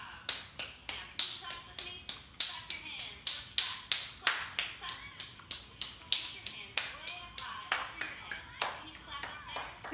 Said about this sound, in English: Now we're going to clap